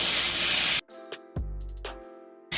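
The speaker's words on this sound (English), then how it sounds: "to a frying pan that's very hot, you're going to add a full tablespoon of butter" A bright, hissing sizzle of a tablespoon of butter in a very hot frying pan, loud and close, then a pause filled with clinks and taps before the sizzle bursts back at the end.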